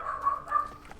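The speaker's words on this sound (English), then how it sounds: "Just a minute, she is still barking." A dog barks twice in close succession, each a short, nasal, wavering call heard nearby over a faint background hum.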